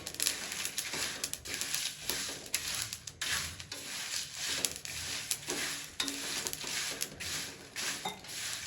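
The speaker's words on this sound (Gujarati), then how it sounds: "આ બધો મસાલો પહેલાં શેકીએ તો કેવી સરસ મજાની સુગંધ આવે છે" Whole garam masala spices dry roasting in a pan, stirred continuously so a steady scraping, rustling rattle runs throughout at moderate, close level, with no voices.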